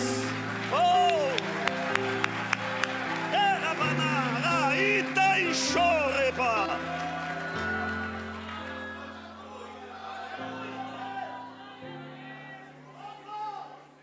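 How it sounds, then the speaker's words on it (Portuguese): Church congregation at a communion service clapping and cheering together, loud and sustained, with a preacher's voice and organ-like keyboard chords carrying over the applause. "dê a melhor salva de palmas"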